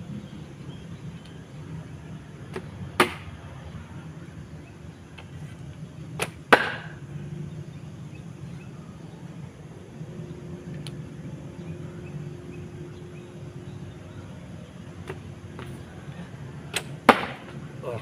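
Arrows shot during archery practice, several sharp, brief impacts and whooshes spaced irregularly over quiet background, a few louder snaps standing out near and clear.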